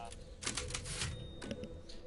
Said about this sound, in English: While it's loading up like it's doing a typewriter